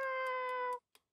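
Cat meowing in a video game, a single clear, sustained synthetic meow lasting under a second, followed by a couple of faint ticks in near silence.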